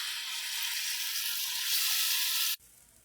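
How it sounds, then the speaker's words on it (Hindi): Loud steady sizzling of tomato puree frying in a hot pan, a dense hiss that cuts off abruptly near the end. "अब अच्छे से हम भून लेंगे।"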